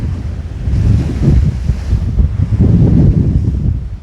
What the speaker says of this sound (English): this is what going up wind in 25 knots looks like